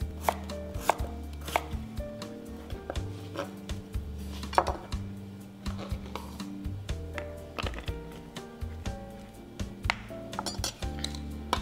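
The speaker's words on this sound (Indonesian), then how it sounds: "Untuk kentangnya dipotong kotak-kotak" Potatoes chopped into cubes on a cutting board for Indonesian oxtail soup: rapid, irregular knife knocks up close, with occasional light clinks of kitchen utensils and no speech.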